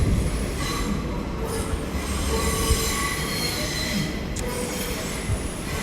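An IET train pulling away at London Paddington on the Great Western Main Line, heard as a steady, fairly loud rumble of wheels on rail with high squealing tones across the platform.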